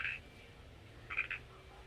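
Frog croaking outdoors in a vegetable garden, two short raspy croaks about a second apart, moderately distant over a quiet background hum.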